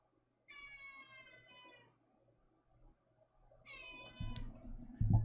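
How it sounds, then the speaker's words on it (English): A house cat meows twice, each a drawn-out, siren-like wail lasting over a second, close and clear with quiet room noise between, followed by a few muffled thumps. "If I look away, she won't meow."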